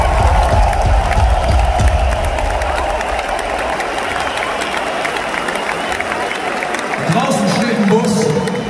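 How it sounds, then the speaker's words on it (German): Rock concert crowd at a Böhse Onkelz show in Berlin cheers and applauds for the crew, a loud continuous roar of voices and clapping with a low rumble underneath that swells again near the end. "Und die haben sich einen fetten Applaus verdient."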